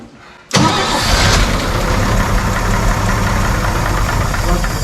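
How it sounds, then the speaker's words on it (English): A 1963 Chevy 4x4 engine cranks after a brief quiet moment, catches and settles into a loud, steady, slightly rough idle that runs close and uninterrupted to the end. "You ready to fire it up again?"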